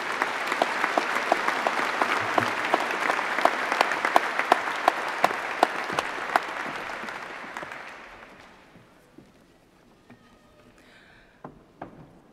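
Sustained audience applause for graduates at a university graduation ceremony, steady dense clapping that fades out around eight seconds, leaving a few faint stray claps.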